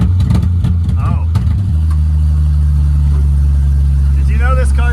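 A loud 1967 Plymouth Barracuda engine rumbles at a deep steady idle after a brief rev, with voices talking briefly over it.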